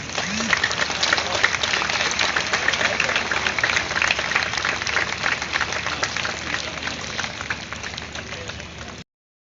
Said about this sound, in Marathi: आपल्या टाळ्या थोड्या कमी पडतात